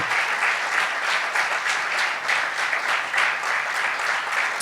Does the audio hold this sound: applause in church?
yes